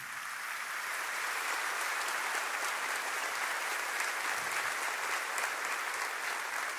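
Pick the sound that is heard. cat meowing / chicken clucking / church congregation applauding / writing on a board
church congregation applauding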